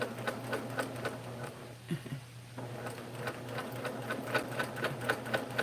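A sewing machine running a zigzag quilting stitch, its rapid even needle chatter continuous and close, pausing briefly for a moment before resuming at the same brisk rhythm.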